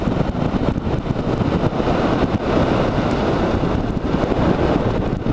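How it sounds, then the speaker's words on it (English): Strong wind noise rushing over the microphone while paragliding, a continuous loud roaring buffet that swells and eases slightly, with no voices. "I'm gonna throw a little brake on just to slow down that wind noise."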